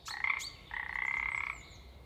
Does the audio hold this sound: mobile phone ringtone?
no